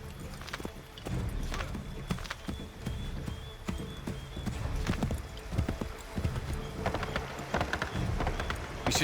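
Horse hooves clip-clop steadily at a brisk riding pace in the video game Assassin's Creed 3 (2012), close and continuous across the whole stretch, with faint rain-like noise underneath.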